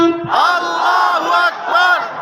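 A large crowd answers a takbir call by shouting Allahu Akbar in unison, loud and close, in two or three surging chanted bursts with a single voice just audible at the very start.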